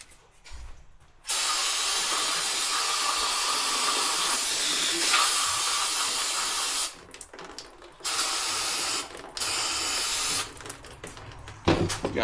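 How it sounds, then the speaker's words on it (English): Loud, steady hiss of compressed air or spray cleaner blasting through a 2003 Harley Sportster 1200 CV carburetor, in several bursts with brief pauses between them, close and with no talking. "Yeah, I'm about to spray that out."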